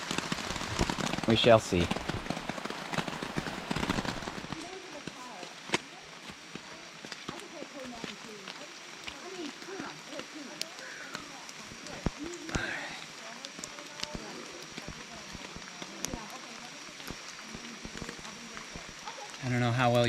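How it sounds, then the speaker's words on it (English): Steady rain pattering on a tarp shelter at a wet campsite during a Virginia trail outing, a continuous soft hiss with scattered sharper drops, while a person speaks briefly near the start. "I'm sure as you can tell, the rain hasn't stopped"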